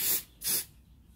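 Two short bursts of aerosol spray hissing close by, separated by a brief pause, then quiet.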